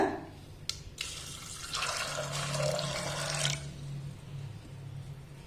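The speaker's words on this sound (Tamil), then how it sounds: "கொண்டக்கடலை முங்கு அளவுக்கு தண்ணி சேர்த்துக்கோங்க" Water splashes and pours steadily into a metal pressure cooker holding chickpeas for a couple of seconds, with a low hum continuing underneath.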